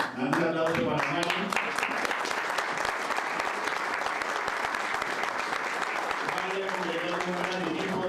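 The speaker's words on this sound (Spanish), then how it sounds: "Un aplauso para Mari." Sustained applause from an audience at a Pan-American phlebology congress, dense and steady for several seconds, with voices briefly audible near the start and end.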